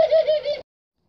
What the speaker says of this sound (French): Donc voilà, c'est une femelle tourterelle rieuse de couleur.